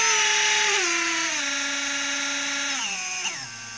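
A drone motor driven by a faulty Spedix GS30 ESC whines loudly at full throttle, its pitch stepping down unevenly in several jumps and wavering before dropping lower near the end, with no talk.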